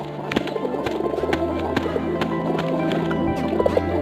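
Fantail pigeons coo in low, rolling murmurs, several birds overlapping in a steady soft drone with brief flutters and clicks throughout.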